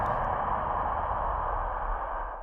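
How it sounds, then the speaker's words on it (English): A spaceship engine thrust effect from a live stream, a steady, loud, broad whooshing roar that holds for a couple of seconds and then fades slightly at the end. "that's supposed to be an engine thrust on the spaceship"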